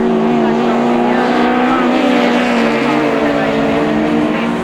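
Autograss race cars at St Neots roaring continuously as they lap a grass track, a loud, dense engine drone with shifting pitch and no break.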